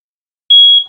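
A smoke detector in a 2021 Forest River Sunseeker 2251 RV gives a single loud, high-pitched electronic beep lasting about half a second after a moment of silence.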